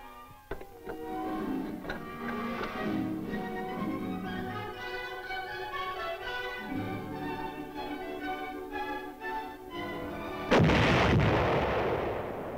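An artillery battery fires in a sequence of sharp reports over a steady noisy background, ending with a louder, broader blast near the end, distant-sounding and with no speech.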